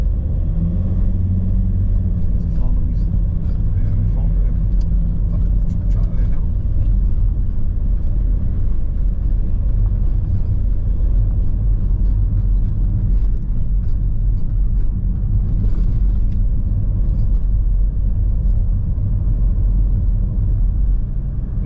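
A car rumbling along a bendy farm road toward an S-bend, a steady low engine and road drone heard from inside the vehicle, loud and continuous with no voices.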